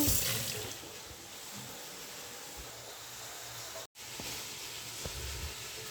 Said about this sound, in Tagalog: Tanggalan na natin ng tubig tong bigas.